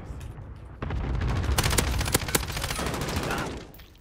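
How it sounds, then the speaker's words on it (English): A grenade goes off in Call of Duty: Modern Warfare (2019), a sudden loud blast whose rumbling roar lasts about three seconds, with sharp crackling debris and gunfire mixed in. "Grenade, grenade."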